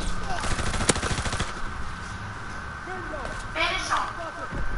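Gunfire in a WW2 video game: a quick burst of shots in the opening second and a half, followed by quieter scattered pops under a steady game ambience, with a voice speaking over it.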